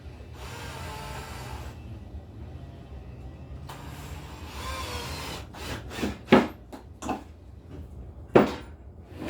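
A drill drives a 1 1/4 inch screw into a pocket hole in wood, first with a sustained whirring and grinding, then a cluster of short bursts and taps as the screw seats.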